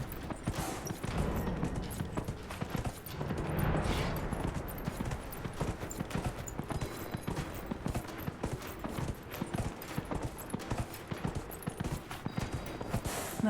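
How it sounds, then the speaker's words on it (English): Horse hooves gallop in the video game Dragon Age Inquisition, a fast, steady run of rhythmic clip-clop thuds throughout with a brief swell of other noise early on. "Get the horse back up and running again."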